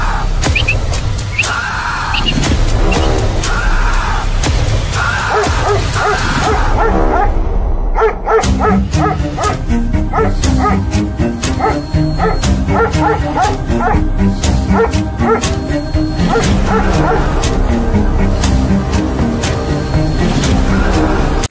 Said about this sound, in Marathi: गावातली कुत्री माग लागतात